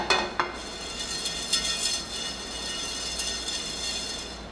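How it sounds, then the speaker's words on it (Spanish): Whole spices for mole almendrado being lightly toasted in a pan over very low heat, with a soft steady sizzle and a few sharp scrapes and clinks of stirring near the start. "Estas especias las vamos a asar ligeramente en un sartén con el fuego muy bajito para que no se quemen."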